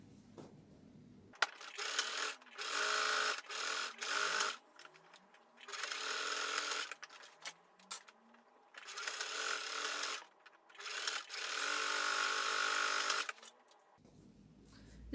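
A sewing machine stitches two layers of fabric for a tote bag in several bursts of steady running, each a few seconds long, separated by short pauses and soft handling of the cloth, heard close up with no talk.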